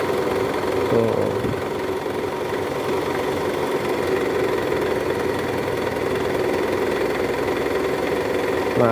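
A running Toyota Camry engine with a faulty balancer gives off a steady, low, growling hum with a faint rough vibration, sustained and even throughout while the car sits in gear.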